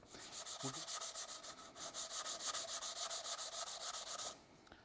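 Rhythmic back-and-forth sanding scratches across a primed fiberglass airframe tube, a fast, even rasping stroke repeated steadily before stopping abruptly.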